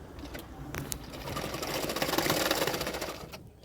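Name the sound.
sewing machine stitching a katori blouse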